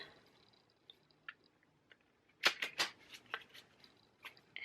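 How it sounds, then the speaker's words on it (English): Short bursts of riffling card shuffles, a couple of quick crisp flurries close by, with faint ticks and quiet handling noise around them. "Give it a nice little shuffle."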